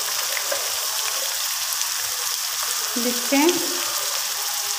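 Garlic paste sizzles in hot oil as it browns, a continuous close frying hiss with a brief stirring clatter partway through; a voice speaks a short word.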